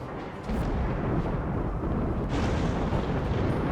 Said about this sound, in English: Dry thunderstorm. Very dangerous.